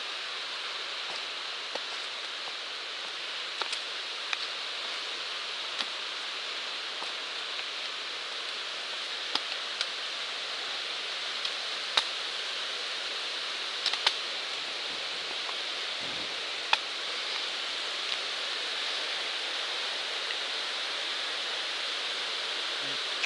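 Small waterfall beside a hiking trail after rain, a steady hissing rush of falling water heard at a distance, even and continuous, with occasional faint clicks and no talking.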